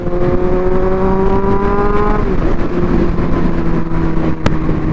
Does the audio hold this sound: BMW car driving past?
yes